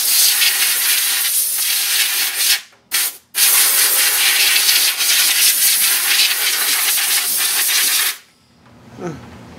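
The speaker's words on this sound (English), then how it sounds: "My air gun." A handheld air gun blasts compressed air to dry RC car parts after a parts washer, a loud steady hiss lasting several seconds with two brief cutoffs, then a sudden stop into quiet.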